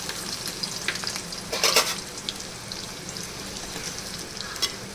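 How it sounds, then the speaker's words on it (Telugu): Sliced onions frying in hot oil in a clay pot for a mutton curry, a steady crackling sizzle with a brief louder burst of spattering and stirring partway through, close and alone. "ఉల్లిగడ్డలు కొంచెం గోల్డెన్ బ్రౌన్ రావాలండి."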